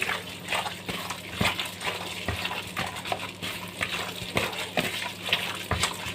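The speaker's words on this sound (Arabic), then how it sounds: "وشويه صويا صوص، وهديها تقليبه كده" Chicken pieces for shish tawook being stirred with soy sauce and barbecue sauce in a tray, giving wet, squelching mixing sounds with repeated soft clicks of the utensil at an even pace, close and fairly steady.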